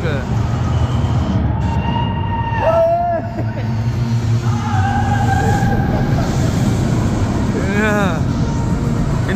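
The world's fastest roller coaster train rushes past with a loud, continuous rumbling roar, and rising shrieks from riders or onlookers break through the noise.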